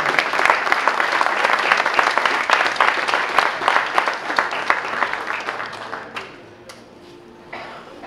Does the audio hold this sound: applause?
yes